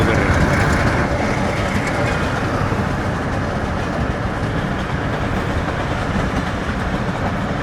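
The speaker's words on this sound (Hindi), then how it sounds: "हम कार में सफ़र कर रहे हैं और खैबर मेल हमारे बराबर में रवां दवा है।" The Khyber Mail passenger train runs alongside a moving car near Hasan Abdal, a loud continuous rumble of wheels on rails with faint rhythmic clatter, heard steadily from close by without talk.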